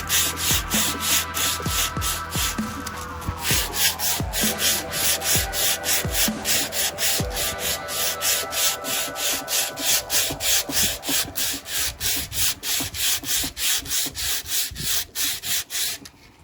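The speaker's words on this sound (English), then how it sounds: "After sanding this down" Sandpaper rubbed by hand over a Bolens lawn mower part, a steady back-and-forth rasping stroke repeated rapidly and loudly up close, with a tonal hum underneath and no talk.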